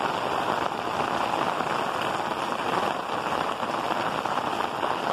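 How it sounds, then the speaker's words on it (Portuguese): Heavy rain pours down in the sertão of São José do Belmonte, heard from a house rooftop slab. The hiss is dense, steady and close, with drops pattering on hard surfaces throughout, and no talking. "e a chuva caindo no nosso sertão"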